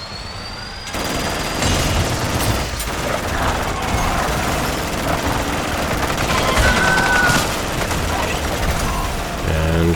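An automated turret fires in the MW3 Zombies video game in a loud, sustained burst of gunfire, layered with dense explosions and a rumbling engine-like backdrop and no speech.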